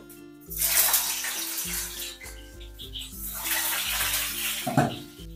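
Shrimp balls (chingri macher muithya) drop one by one into well-heated mustard oil, giving a steady, broad sizzling hiss over music, with a brief louder burst near the end.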